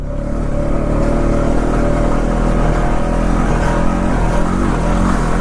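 A 2020 Honda Rancher 4x4 ATV engine runs loud and steady while riding through soft sand, a constant throbbing drone with some clatter and no breaks.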